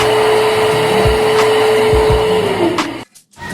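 A hair dryer blows hair dry in a quiet cafe, a loud steady whirring roar with a tonal whine that drops in pitch near the end before switching off briefly and starting again.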